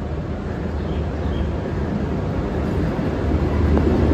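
The Vande Bharat Express pulls into Khurda Road station, a steady, loud rumble of the train rolling along the platform with no voices over it.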